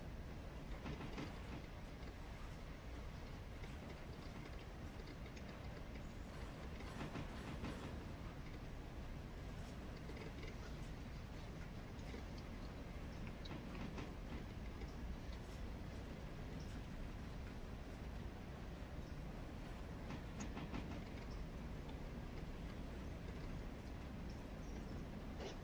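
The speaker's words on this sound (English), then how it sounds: "you can barely hear that big loco down there" A freight train hauling coal cars to a mine rumbles uphill in a steady, faint wash of noise with clickety-clack wheel sounds, the big locomotive distant and barely audible, no talking.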